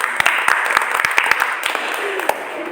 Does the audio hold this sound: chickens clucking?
no